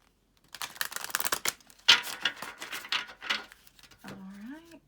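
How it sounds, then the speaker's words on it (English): A deck of affirmation cards shuffled by hand, a quick riffling patter of card edges that starts and stops in short bursts, close and fairly soft, with a brief voice sound at the end. "Okay, one more shuffle."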